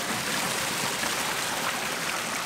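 Flowing water pours steadily at an outdoor bathing spot in Ubud, a dense continuous rushing wash filling the whole moment with no voices.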